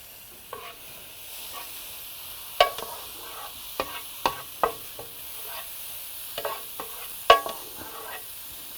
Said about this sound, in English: I'm just going to cook that for a minute because I don't want my garlic to burn